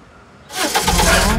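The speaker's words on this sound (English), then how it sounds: "the engine doesn't sound right" A cartoon hair wagon's engine cranks after a brief quiet moment, then runs with a loud, rough, rumbling roar for about a second.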